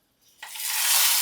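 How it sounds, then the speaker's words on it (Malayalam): Mustard seeds hit hot oil and burst into a loud, steady sizzle for tempering, rising quickly from quiet and holding a bright, hissing crackle up close. "കടുക് വറുത്തതേ ഇടുക."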